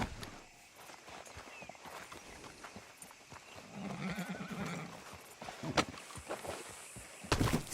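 Horse in the video game Red Dead Redemption 2, with close clip-clop hoofsteps and a whinny among rustling movement, moderately loud and irregular throughout.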